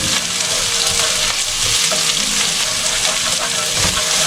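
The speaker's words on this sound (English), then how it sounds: "So let the onion fry to kind of golden brownish." Onions fry in a pan for Hakka noodles, giving a loud, dense sizzle with stirring clatter throughout, close up and with no talking.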